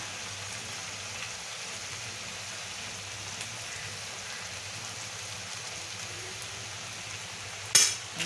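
A masala pav mixture of spices and chilli powder sizzles quietly in a pan while it is stirred and fried. A steady soft crackle runs throughout, ending in a short sharp clatter near the end.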